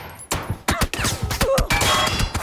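Rapid sniper rifle shots in a PUBG custom match fight, several sharp loud cracks in quick succession with a dense rattling burst of gunfire between them, no talking.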